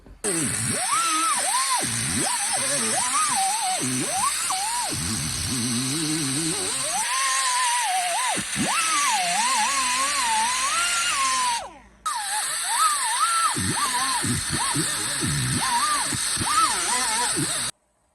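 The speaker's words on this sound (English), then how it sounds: "I'm just going to cut it out of the way with a die grinder" A die grinder cutting through glued-in transmission tunnel carpet inside a 1994 Ford F-250, a loud continuous whining grind that rises and falls in pitch, briefly stopping near the middle before resuming.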